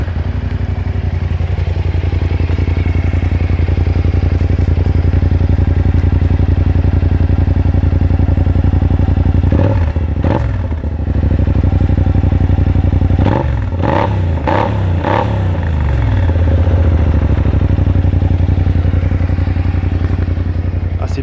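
A Kymco AK 550 scooter engine with an aftermarket Akrapovič exhaust idles with a deep, throaty drone, then a few sharp revs blip up and fall back, loud and close.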